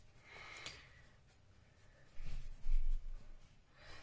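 Arteza watercolour pencils scribble on paper during swatching, soft scratchy strokes in short bursts, quiet and close, with a couple of louder rubbing passes toward the end.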